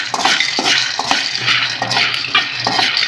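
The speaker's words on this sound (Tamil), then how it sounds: "ஒரு பேன் வச்சு அதில் 1 கப் வேர்க்கடலை ஆட் பண்ணிக்கலாம். அதை நல்லா வறுத்து எடுத்துக்கலாங்க." Peanuts, one cup, dry-roasting in a pan on a stove, stirred so the nuts rattle and scrape steadily against the metal in repeated close strokes, loud and continuous with no talking.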